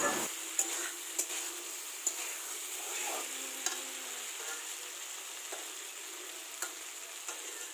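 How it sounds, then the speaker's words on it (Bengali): Papaya and vegetable curry sautéing in oil in a pan, a steady close sizzle with scattered scraping clicks of a spoon stirring, no talking. "সবজিটা দেখো কষানো হয়ে গেছে আর তেলও ছেড়ে আসছে"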